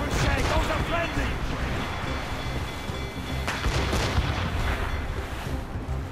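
Naval cannon fire in Assassin's Creed Rogue during a ship battle, booming shots rolling under a continuous din of battle noise and shouting crew voices.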